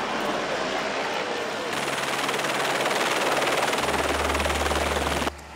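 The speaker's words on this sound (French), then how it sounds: "Celui-là c'est l'hélico de jeu et l'autre hélico c'est l'hélico prise de vue." Two helicopters fly during an action film shoot, one in the scene and one carrying the aerial camera, giving a loud, steady rotor thrum with rapid chopping pulses and a deeper drone joining near the end.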